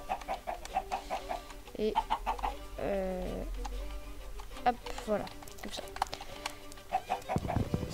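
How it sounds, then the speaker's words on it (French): Chickens cluck in a Minecraft game, short bursts scattered through the stretch alongside game effects, while someone talks in French over them. "vu qu'il y a plein de poules, je vais les prendre"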